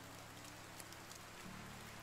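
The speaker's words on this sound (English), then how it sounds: "Yeah, it's raining, so nice weather's not gonna work." Steady soft rainfall hisses continuously in the medieval survival game Medieval Dynasty, a faint wash of patter with a low droning hum underneath and no voices.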